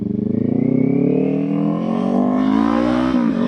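A Kawasaki Ninja 500 motorcycle pulls away to start a ride, its engine note rising steadily as it accelerates through the gear, loud and close with a brief dip near the end.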